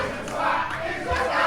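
Wrestling crowd jeering loudly at Kian Camron during a tag-team match, a sustained roar of hostile shouts and boos that swells near the end.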